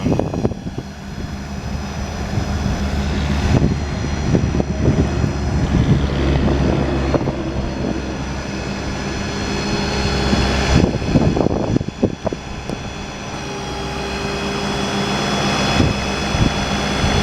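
Truck-mounted air compressor on a 2016 Ford F-550 mechanics service truck fitted with a 6,000-pound crane, running as a steady loud drone with a constant hum and occasional clanks over it.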